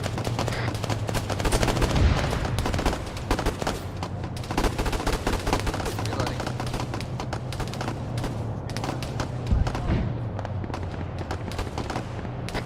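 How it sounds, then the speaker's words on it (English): Dense, continuous battle din from the Arma 3 video game, with rapid bursts of gunfire and heavy booms from mortar rounds and explosions layered into a loud, steady roar of combat with no pauses. "Trying to put mortar rounds into that eastern group engaging you"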